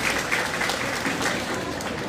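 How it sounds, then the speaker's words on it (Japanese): Audience applause at a free live concert in Kurume, a steady wash of clapping from the crowd lasting about two seconds at moderate level. "島村楽器さんにじゃあ拍手を。"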